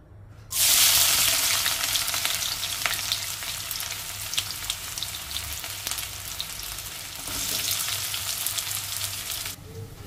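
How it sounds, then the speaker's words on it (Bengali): Sliced onions for birista drop into hot oil in a pan with a loud sudden sizzle, then frying crackles steadily and close, dipping briefly before swelling again and cutting off near the end. "তো চলুন প্রথমে ব্রেস্তাটাকে ফ্রাই করে নিই।"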